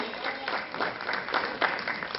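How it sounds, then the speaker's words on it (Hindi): Applause from a theatre audience at a play show in Jammu as the makeup team is credited, a fairly quiet, uneven patter of many hands with a few louder swells. "प्लीज जोरदार तालियां"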